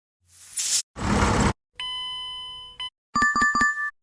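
A car's warning chime sounds as a steady, bright electronic tone held for about a second, set between bursts of hissing noise and followed by a quick series of clicking electronic tones.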